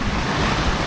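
Beach surf washes in a brief, loud steady rush, with wind noise on the microphone.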